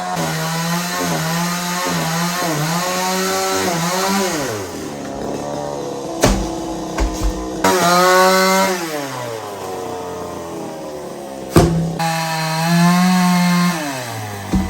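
Chainsaw engine cutting down a coconut tree, droning loud and close with the pitch rising and falling as it bogs into the trunk and revs, with brief gaps and sharp knocks near the end.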